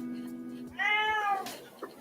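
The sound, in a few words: cat meowing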